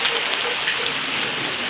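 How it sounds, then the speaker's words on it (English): Rain coming down in a steady, close hiss of falling drops, brief and even with no pauses. "Here comes the rain."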